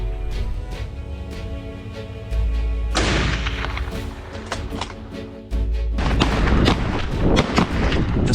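Gunshots from a hunter firing at big wild boars in a snowy winter field, several sharp reports over a steady low rumble, with a louder burst after the midpoint.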